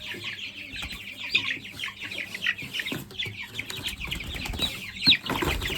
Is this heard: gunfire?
no